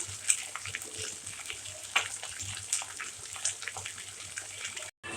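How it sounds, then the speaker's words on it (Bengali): Water is poured into a cooking pot for a fish and snake gourd curry, a fairly quiet, steady splashing wash with a few small clinks, cut off abruptly near the end. "পানি দিলাম এখানে"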